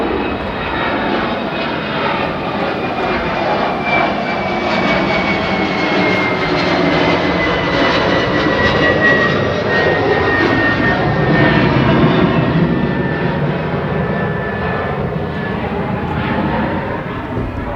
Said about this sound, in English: There's going to be a jet flying over,